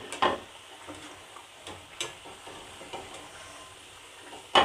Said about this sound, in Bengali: এভাবে সব পিঠাগুলো আমি ভেজে নিব